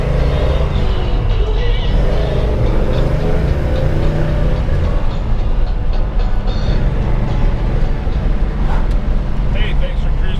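A 1970 Chevrolet Chevelle SS454 with the LS5 big-block V8 and four-speed manual cruising on the road, a loud continuous low engine rumble and road roar heard from inside the car while someone talks over it.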